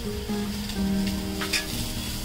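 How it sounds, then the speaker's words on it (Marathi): Onion roasting in a little oil in a pan while a spiced coconut paste is being prepared, giving a faint steady sizzle with a low hum running underneath and no voices. "त्यासाठी हा मी कांदा ना थोडासा तेल टाकून भाजून घेणार आहे।"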